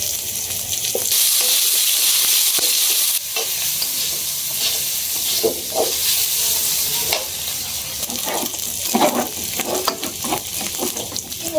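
Turmeric and chili powder frying in oil in a pan, a loud, close sizzle broken by busy stirring and scraping strokes, with a brief surge of hissing early on.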